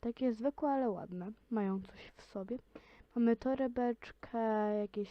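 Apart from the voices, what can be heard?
No distinct noise like a dog, phone or traffic.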